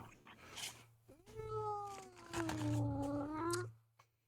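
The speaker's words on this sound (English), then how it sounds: "Hey, I heard you, little dumbass cat." A house cat gives a long, drawn-out meow that rises then slowly falls, close and fairly quiet, with a few softer sounds around it and no talking.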